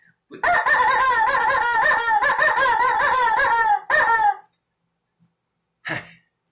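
A shrill, strained squawk from a rubber chicken toy, drawn out for several seconds in wavering bursts, then a short squeak after a pause.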